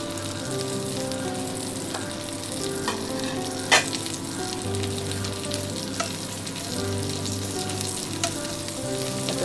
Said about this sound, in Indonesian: di sini gua masak si bawang ini